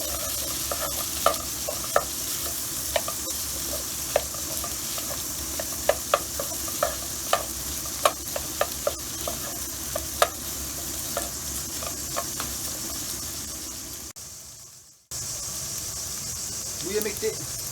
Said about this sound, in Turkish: Biber salçası çabuk, çabuk yandığı için bir dakika kadar kavuracağız.